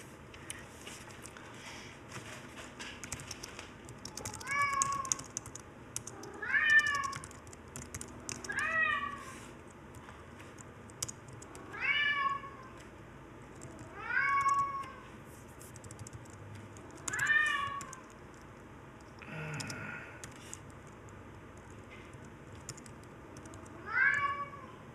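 A house cat meows loudly again and again, about eight drawn-out calls spaced a couple of seconds apart, close by and on its own against faint keyboard typing.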